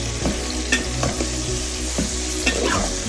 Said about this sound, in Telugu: సొరకాయ ముక్కలు వంకాయలు టమాటాలు ఇవన్నీ వేసుకొని బాగా కలుపుకుందాం